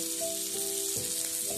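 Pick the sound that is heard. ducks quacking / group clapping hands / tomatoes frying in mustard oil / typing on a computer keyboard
tomatoes frying in mustard oil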